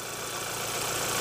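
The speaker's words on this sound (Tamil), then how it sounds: "இப்போ இன்ஜின் ஸ்டார்ட் பண்ணுற பாருங்கள்" A used Hyundai Sonata's engine idles in a steady, even hum at low volume, a continuous mechanical drone with no voices over it.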